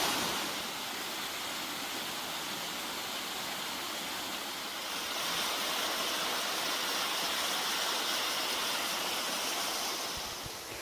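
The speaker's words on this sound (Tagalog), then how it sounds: "This is the first waterfall we saw" Steady broadband rushing of a waterfall along a mountain trail at Daedunsan in Korea, a continuous close roar of falling water that swells slightly midway, with no voices.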